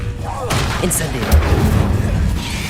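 An Incendio fire spell cast in Hogwarts Legacy gives a loud booming, fiery burst with rumbling low-end impacts. It sits among other combat noise, with no voices over it.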